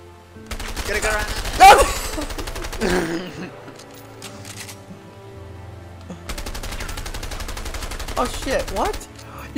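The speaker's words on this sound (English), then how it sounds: "You can shoot through the wall. You're still shooting. Stop shooting." Sustained automatic gunfire in the co-op video game A Way Out, two long rapid bursts separated by a short pause, loud and close with faint sounds between them.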